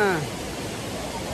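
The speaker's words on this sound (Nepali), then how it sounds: "तर झरना चाहिँ दामी छ" Waterfall in the middle of a jungle, a steady broadband rush of falling water that stays even from start to finish, with a brief voice at the very beginning.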